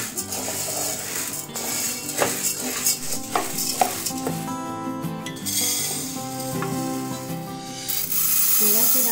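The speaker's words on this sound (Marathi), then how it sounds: "सतत ढवळत राहिल्याने डाळ चांगली फुलून भाजता येते" Lentils dry-roasted in a pan for besan ladoo, stirred steadily so they puff without darkening: repeated scraping and rustling strokes over a soft sizzle, close by, with background music throughout.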